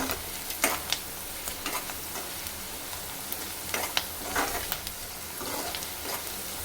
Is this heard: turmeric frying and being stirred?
yes